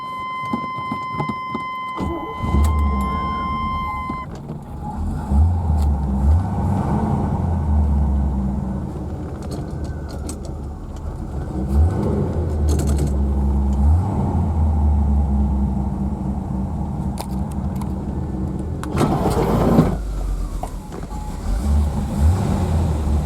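A 1980 Chevy Corvette engine cranks after a whirring starter and then runs with a continuous low, rough rumble, close by, with occasional clicks and knocks.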